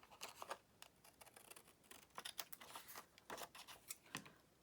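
Scissors snip repeatedly through paper, cutting out a printed lady figure for a pop-up flower card, with quick close crisp cuts and soft paper rustles in a quiet room.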